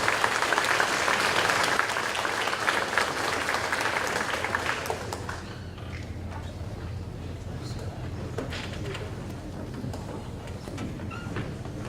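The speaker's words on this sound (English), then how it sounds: "So let's give these students a round of applause." Audience applause for award-winning students at a high school academic awards night, loud and dense for about five seconds before fading to a quieter murmur of room noise and scattered claps.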